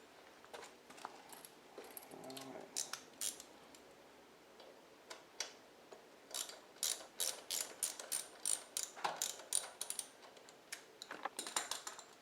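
Wrench clicking as hex bolts are loosened from the brake caliper and hose bracket of a Buell XB motorcycle, a close, fairly faint run of irregular ratcheting ticks and metal taps with no talk.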